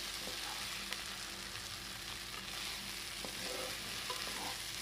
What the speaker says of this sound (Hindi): इसे भी हम वन मिनट के लिए फ्राई कर लेंगे